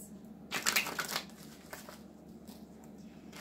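A tarot deck shuffled once in a short, close riffling burst, then a faint rustle of cards fading into near quiet.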